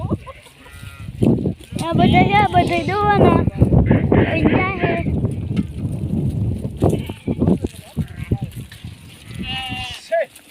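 Goats in a village let out repeated bleats, close and fairly loud, mixed with people talking and calling out.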